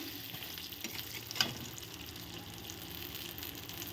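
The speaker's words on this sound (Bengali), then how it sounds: "গোবিন্দভোগ চালগুলো এর সাথে আমি সুন্দর করে ভেজে নেব।" Gobindobhog rice frying and being stirred in a pan, a steady close sizzle with scraping stirs and one sharper clink near the middle, with no voices.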